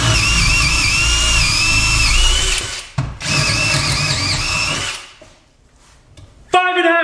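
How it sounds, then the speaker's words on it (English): Big DeWalt power drill running flat out in a timed race, a loud close whine that dips briefly, resumes, then cuts off, followed by near silence and a short burst of voice. "Five and a half seconds for the big drill."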